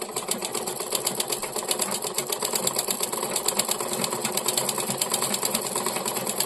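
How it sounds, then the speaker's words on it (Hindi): A sewing machine winding thread onto a bobbin, a fast steady mechanical whirring and clatter with an even rapid rhythm, close and loud throughout. "आप चलाइए, इसको धागा को पकड़ना भी नहीं पड़ेगा और कितना सुंदर से ये पूरा बॉबिन भर जाएगा"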